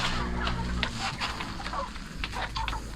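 Chickens cluck in short bursts at close range, with low background noise underneath.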